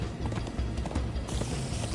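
Horses galloping in the Minecraft Story Mode video game, a steady rhythmic clip-clop of hooves running continuously and fairly close over a busy game soundtrack.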